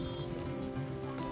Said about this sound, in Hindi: ये जो जबरदस्त बारिश हो रही है